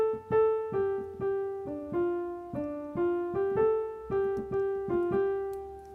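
Right-hand piano phrase from a song, played alone as a clear run of about a dozen sustained notes stepping up and down in an even rhythm, close and moderately loud.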